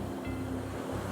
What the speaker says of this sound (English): them waves will be coming all the way up here very soon